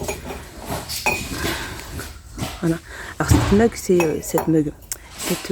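Ceramic mugs with small handles and matching dishes clink and knock as they are handled in a store, giving sharp, scattered clinks between bursts of nearby talking.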